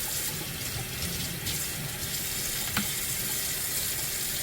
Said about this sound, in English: now I like to clean up this sink. Make sure that the sink is cleaned up.